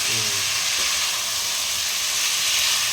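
Spices and chickpeas sautéing in a pan for a pumpkin and malabar spinach ghonto, a steady broad sizzle and hiss filling the clip, with a couple of faint stirring scrapes near the start and no talk.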